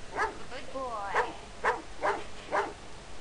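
A dog in the video game Phantasmagoria gives five short, sharp barks at a steady pace, close and clear, with a brief whimpering whine between the first barks.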